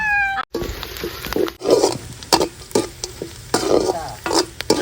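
Ingredients sautéing in a pan for a village-style goat intestine curry, with repeated spatula scrapes and stirs over a steady sizzle; a cat meows briefly at the very start.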